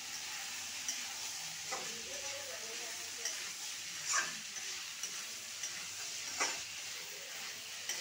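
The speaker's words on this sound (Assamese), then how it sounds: "অলপমান ভাজিখিনি বনাই আছোঁ" A vegetable bhaji sizzles steadily in a pan, broken by the occasional scrape and clatter of a spoon stirring it, heard up close with faint background noise.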